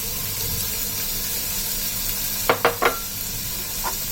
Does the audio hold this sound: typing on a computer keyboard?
no